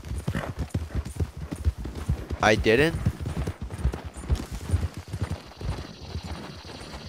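Hoofbeats of a horse called Gravedigger being ridden at speed in Red Dead Redemption 2, a steady clip-clop running under someone talking throughout.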